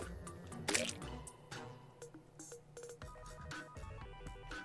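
Water flows and drips in the video game Terraria, a busy run of soft liquid drips and splashes set against layered game sounds, steady and fairly quiet throughout.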